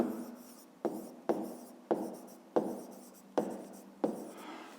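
Pen strokes writing out a fifth-grade maths exercise on paper, seven sharp scratchy bursts each trailing off, spaced roughly every half second, close and fairly quiet with no talking.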